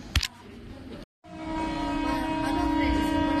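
A metro train at a metro station in Bengaluru: after a brief burst of noise and a short gap, a loud, steady rising electric whine and rumble builds as the train moves, with no talk.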